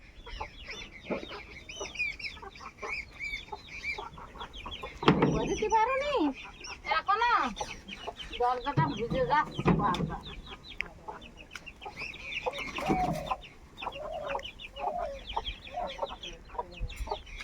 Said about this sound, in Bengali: মুরগিগুলো ছেড়ে দিলাম রোদ ছেড়েছে